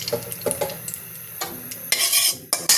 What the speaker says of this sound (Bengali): বন্ধুরা এখন আমি একটু ঘি দিয়ে ভেজে নিব সেই পেঁপে কুচানো।